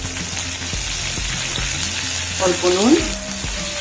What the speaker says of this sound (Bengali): এই সবজিগুলো ভেজে নেব, বেল পেপার আর বাঁধাকপি